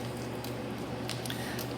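Cooked potatoes for potato bread are pressed through a sieve to squeeze out excess hot water, giving soft, faint wet squishes over a steady low background with no talking.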